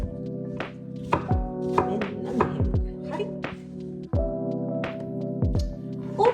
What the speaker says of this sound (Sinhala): මට හිතෙන විදිහට මම ඉතින් කපා ගන්නවා